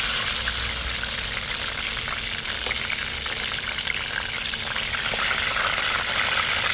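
Fish frying in a pan near a kitchen, producing a steady, loud, even sizzle and crackle that continues without pause, with no talking.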